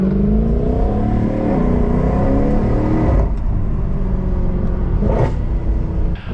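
Mercedes C63 AMG with a 6.2-litre V8 revving loudly and steadily up close, its deep toned rumble rising and falling through a few swells with no talk over it.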